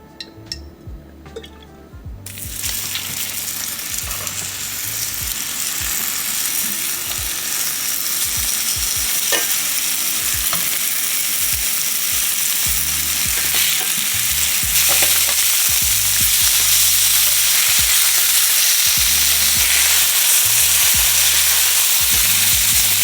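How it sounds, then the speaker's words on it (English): Oil heats in a pan for a beef and noodles dish, starting quiet and then breaking into a loud, dense, continuous sizzle with faint clinks of utensils, close by and with no talking. "we're gonna add a little oil. Let it get real hot"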